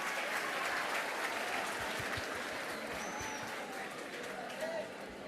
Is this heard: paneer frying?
no